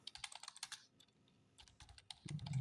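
A computer keyboard is typed on in quick bursts of close, crisp keystrokes, a pause in the middle, while a Linux command is entered.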